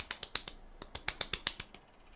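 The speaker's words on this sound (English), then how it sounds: "That's me clapping for you." Light hand clapping, about a dozen quick, sharp claps in an irregular patter, close and fairly quiet, with no voices.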